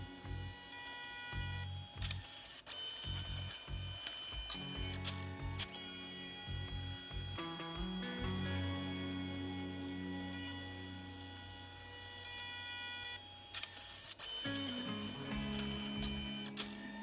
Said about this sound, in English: I think this cartridge might be running low because I do see some printing smudge happening here.